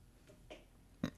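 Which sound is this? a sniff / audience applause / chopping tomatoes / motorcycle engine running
a sniff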